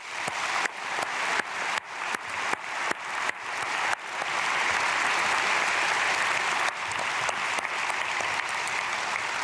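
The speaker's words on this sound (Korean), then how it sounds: "우리 어린 아이들과 우리 청소년들까지 다 박수로 축복하겠습니다" A church congregation at an early-morning prayer service claps to bless the children and youth, starting as scattered loud claps and swelling into steady, dense, sustained applause filling the hall.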